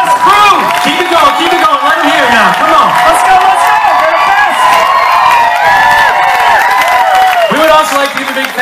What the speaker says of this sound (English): Can you guys give our crew a big round of applause,